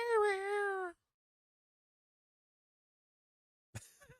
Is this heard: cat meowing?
yes